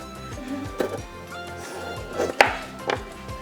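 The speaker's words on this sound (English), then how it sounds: "now we are ready to cut and see what it's gonna look like inside" A knife slices through a chilled no-bake chocolate salami, giving several firm thuds and sharp cuts against a board, a couple of them loud and close, with quiet background in between.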